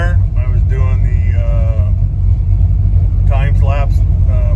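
A V8-powered Chevy LUV pickup truck drives along a road, its engine rumbling loudly and steadily from inside the cab while someone talks over it.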